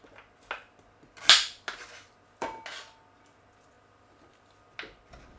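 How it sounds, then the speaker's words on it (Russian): A kitchen knife cuts an onion into cubes on a board for a Korean sweet-and-sour meat dish, making a few sparse, sharp knocks at irregular intervals with quiet gaps between. "Луковицу режем пополам, получившуюся половину еще раз пополам и нарезаем кубиками"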